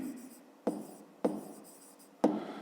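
A pen writes out a fifth-grade math solution by hand, calculating the area of a room as length times width, with three sharp strokes or taps, each trailing off into a soft scratching rustle, close and quiet.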